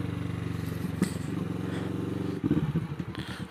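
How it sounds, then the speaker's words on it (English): Motorcycle engine rumble picked up by a small iPhone microphone mounted in a rider's helmet, a steady low throbbing drone with a brief rise in revs and some wind buffeting and clatter. "listen to the rumble of the motorcycle"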